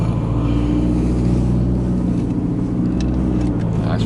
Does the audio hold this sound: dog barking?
no